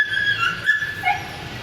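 A pet dog whines in high, thin whimpers close by, with a short yip mixed in, continuous over a faint background hum.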